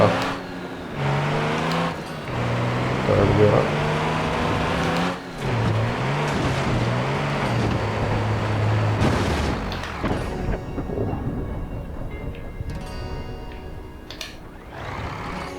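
A heavy off-road truck's engine roars and revs in BeamNG Drive as it climbs a hill, a loud sustained drone with rising and falling pitch, briefly interrupted by gaps, before fading under rougher rumbles and a short spoken word.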